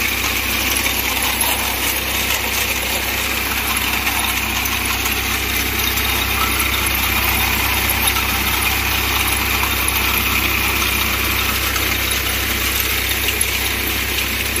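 An electric motor mounted on the front of a Vasundhara super reaper drives its hydraulic oil pump, giving a loud, steady, close mechanical drone with a constant hum and high whine that runs unchanged throughout.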